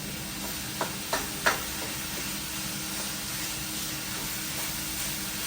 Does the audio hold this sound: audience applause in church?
no